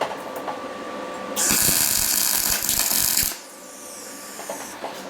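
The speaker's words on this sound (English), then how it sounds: "I'll be grinding for an hour" A power tool grinds loudly for about two seconds, a harsh high whine with rattling, then cuts out, leaving a quieter workshop hum.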